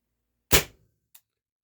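An HDR68/TR68 revolver fires one sharp, loud shot indoors, a single crack with a brief decaying tail, followed about half a second later by a small click.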